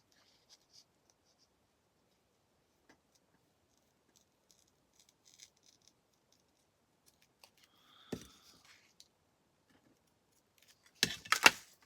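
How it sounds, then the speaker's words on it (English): Paper being cut with scissors to shape a piece for a journal: a few faint, sparse snips, then a brief louder burst of close cutting and rustling near the end, in an otherwise quiet room. "that just gives me the shape to cut round"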